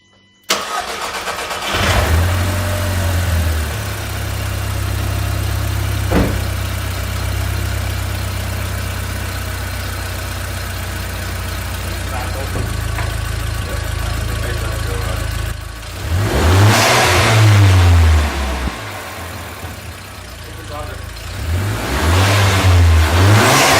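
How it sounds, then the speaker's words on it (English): An Audi TT with aftermarket turbo parts started with the bonnet open: the engine cranks and catches, settles into a steady close idle, then revs hard twice near the end with rising and falling engine tones. "So I'm going to start the car, and yeah, we'll see."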